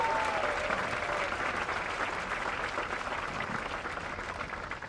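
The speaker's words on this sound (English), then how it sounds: "So let's give a big round of applause to this year's faculty and staff of the AAMB." A big round of applause at an end-of-camp band performance for the faculty and staff, a full steady wash of clapping from a large audience that eases slightly toward the end.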